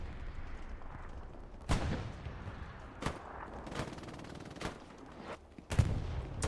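Gunfire and combat in the WWII shooter Hell Let Loose: several sharp, loud shots ring out at irregular intervals, some close and some farther off, over a steady rumble of battle ambience with no talking.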